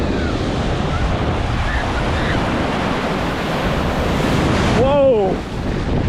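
Ocean surf breaking and rushing ashore at Melbourne Beach, Florida, a steady loud wash with wind buffeting the microphone throughout and a brief squeal of excited voices near the end.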